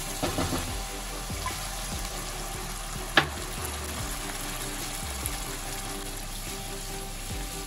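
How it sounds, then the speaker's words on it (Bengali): Water poured into fried spices sizzling in a pan while cooking fish curry, a steady sizzle and bubbling hiss with a few scrapes and one sharp clink, no voices. "এবার আমি এর মধ্যে জল দিয়ে দিচ্ছি"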